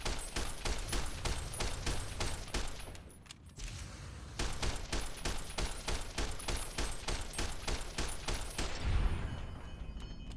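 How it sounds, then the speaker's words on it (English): Rapid gunfire in Fallout: New Vegas during a fight with Freeside thugs: dense bursts of repeated shots run almost continuously, with a short lull and a heavier blast near the end, loud and without speech. "Some Freeside thugs started attacking me, and while dealing with them I accidentally shot Dixon"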